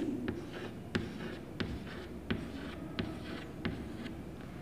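Marker or chalk strokes on a board as beads are drawn for a place-value abacus, a series of short, evenly spaced taps and scratches, about seven in a row, moderately quiet with no talk.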